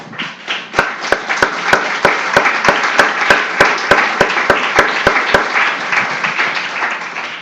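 A church congregation applauding, dense sustained clapping from many hands nearby, with a run of sharp, evenly spaced claps cutting through the crowd for several seconds.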